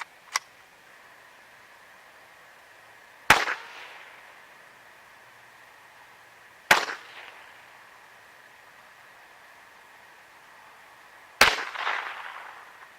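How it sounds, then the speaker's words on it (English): A .22 Long Rifle fired outdoors over snow, four sharp separate cracks spaced a few seconds apart, each followed by a short fading echo tail, loud against a quiet background. "So first, let's try the .22 long rifle."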